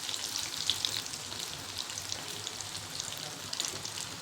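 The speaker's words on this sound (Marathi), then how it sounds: "म्हणजे दोन्ही पण तळून दाखवते त्यासाठी." Dal vada and semolina snack balls deep-fry in oil, producing a faint, even bubbling hiss with soft crackles and no talk.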